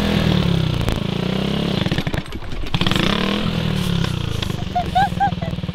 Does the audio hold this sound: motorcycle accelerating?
yes